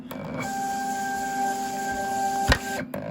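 A US Cutter vinyl cutter runs with a steady mechanical whine and hum holding clear tones, starting abruptly and stopping near the end after a brief clunk.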